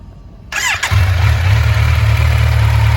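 A motorcycle engine starts up close by with a whirring crank, then settles into a loud, steady rumbling idle ahead of a launch demonstration, with no speech.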